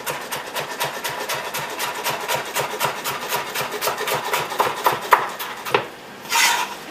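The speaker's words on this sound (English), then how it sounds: "I'm just going to chop finely." Vegetables for a spring roll filling being finely chopped with a knife on a board: a brisk, regular run of sharp close taps that grows slightly irregular, then stops, followed by a brief scrape.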